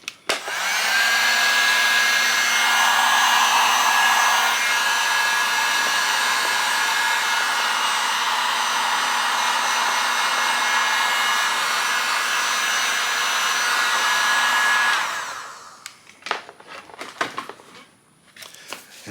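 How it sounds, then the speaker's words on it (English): Heat gun blowing hot air to shrink heat shrink tubing over a battery cable for a 0 gauge wire kit on a 1978 Chevy Malibu, a loud steady roar for about fifteen seconds, then cut off, followed by faint handling clicks. "you can slide your heat shrink down, and then you can just grab your heat gun"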